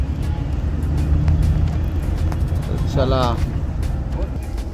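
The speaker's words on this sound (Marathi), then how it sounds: "पाच मिनिटाच्या होल्ड नंतर आता आपली गाडी निघाली आहे" A luxury bus on a Mumbai to Dapoli trip pulls away after a short stop, its steady low engine rumble filling the cabin while someone talks over it.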